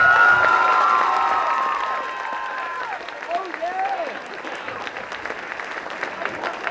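Applause and cheering from an audience for 8th grade students at Miller Middle School's promotion ceremony, loud at first and gradually thinning, with some shouting and voices mixed in.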